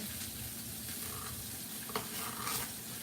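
Uncured, nitrate-free bacon frying in a pan gives a steady, close crackling sizzle throughout, with a brief sharper pop near the middle and a slight swell toward the end.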